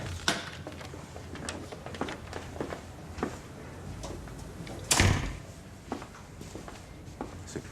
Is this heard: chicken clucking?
no